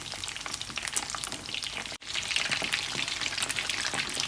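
Battered shrimp fry in hot oil with a dense, steady crackling sizzle that stays close and fairly loud. A brief gap breaks it partway through, and then the frying continues with no voices.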